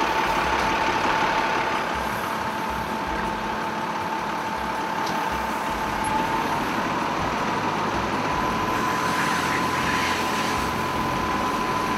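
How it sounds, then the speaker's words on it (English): A fire engine rolls slowly down a narrow alley near a vacant lot in Fresno, its steady diesel rumble and whine holding close and continuous with no voices over it. "The engineer maneuvers the engine down the narrow alley."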